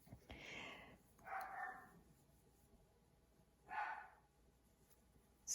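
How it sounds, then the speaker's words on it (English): A dog gives three separate barks, spaced a second or two apart, fairly faint and somewhat distant, in an otherwise quiet setting. "That's probably why he is barking"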